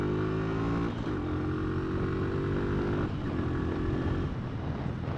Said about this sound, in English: Now on a 125, because the engine doesn't have a huge amount of power, you are using lots of throttle.